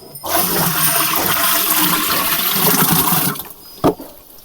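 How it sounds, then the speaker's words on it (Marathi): Liquid solution, including cooked rice, poured into a 200-litre water drum already filled with water, making a steady, loud gushing splash for about three seconds before it stops, with one short knock at the end. "आता यामध्ये हे जे पूर्ण द्रावण आहे हे आपल्याला टाकून द्यायचं आहे"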